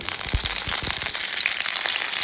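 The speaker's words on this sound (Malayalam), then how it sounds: "അപ്പോൾ നമ്മുടെ എണ്ണ ചൂടായി ഞാനിതിലേക്ക് ഒരു അല്പം കറിവേപ്പില" Curry leaves dropped into hot oil crackle and spit in a run of sharp, close pops over a steady bright hiss, with no voices.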